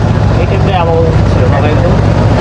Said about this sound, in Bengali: এখন যে ট্রলারটি দেখতে পাচ্ছেন এই ট্রলারটিতে করেই আমরা মাছ ধরতে যাব